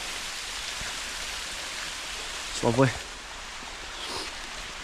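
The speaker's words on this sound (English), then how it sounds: "come up and seen this beautiful waterfall" A waterfall beside Loch Lomond in winter gives a steady, close rush of falling water, with a voice speaking briefly over it partway through.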